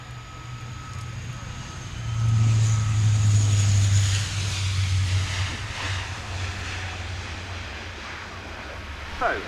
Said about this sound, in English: into land the Lockheed Martin F-35B Lightning II from VMF AT-501 of the US Marine Corps